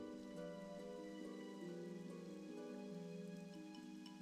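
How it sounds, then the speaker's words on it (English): Steady rain falls in Darnassus in the video game World of Warcraft, a soft continuous patter mixed under sustained ambient music tones. "Ah, rain in Darnassus."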